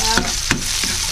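Onion sautéing in a pan for alamang, a loud continuous sizzle broken by a few sharp stirring scrapes, close by with no talk.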